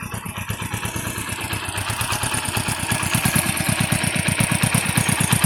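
A Hero Splendor Pro motorcycle, due for service with an engine oil leak and vibration complaints, idles close by with a rapid, even single-cylinder putter that grows slightly louder and more pronounced over a few seconds.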